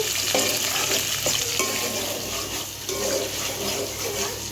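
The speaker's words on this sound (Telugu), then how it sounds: "రెండు పచ్చిమిర్చిని అయితే తీసుకొని ఇవి బ్రౌన్ కలర్లో వచ్చే వరకు ఫ్రై చేసుకుంటానండి" Two green chillies fry in a pan until brown, giving a steady, fairly quiet sizzle with soft stirring scrapes throughout.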